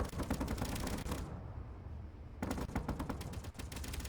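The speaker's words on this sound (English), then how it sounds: "Look at that storm of bullets." Rapid, sustained automatic turret gunfire in Space Engineers rattles in dense bursts, pausing briefly before resuming just as intensely, loud and close like arcade turret fire.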